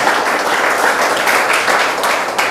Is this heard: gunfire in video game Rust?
no